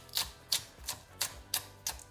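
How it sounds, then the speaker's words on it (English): A knife dices spring onion strips on a cutting board, six crisp, evenly spaced chops in a steady rhythm, close and moderately quiet with no talking. "And then just like the pepper, I'm going to give them a quick dice."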